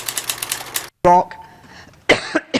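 The Chancellor coughs during a speech, a short harsh burst following spoken words, with a couple of smaller throat sounds after it.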